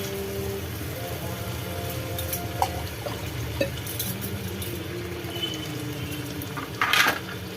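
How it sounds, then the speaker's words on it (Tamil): Rinse water from a mixer jar is poured into a cooking pot while dhaba-style peas masala is being made, a quiet splash and trickle over low kitchen background hum, swelling briefly near the end. "நான் மிக்ஸி ஜாரை கழுவி ஊற்றிக்கிறேன்."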